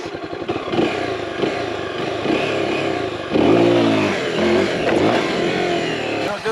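A motorcycle engine revs repeatedly, rising and falling in pitch, with one strong acceleration swell midway; loud and close with some mechanical clatter.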